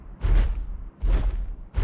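Two heavy, booming gunshots in PUBG Mobile about a second apart, with a third starting at the end, each a loud low thud with a short tail.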